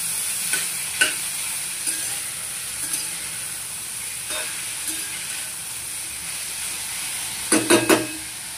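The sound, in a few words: cauliflower with garlic and tomato stirred in frying pan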